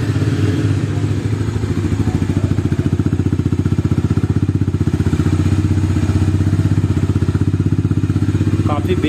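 A 2022 Bajaj Dominar 250 motorcycle's exhaust rumbles steadily at idle, a deep, even, bassy throb that stays close and loud throughout.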